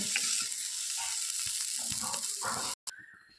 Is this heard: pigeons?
no